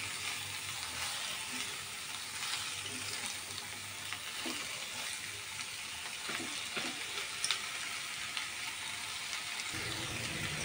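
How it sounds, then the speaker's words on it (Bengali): Snake gourd with turmeric and salt fries in a pan, giving a steady, fairly quiet hiss throughout, with a few faint scrapes of stirring near the end. "এখন আমি চিচিঙ্গাটাকে নেড়ে সব কিছুর সাথে একসাথে মিশিয়ে দেব।"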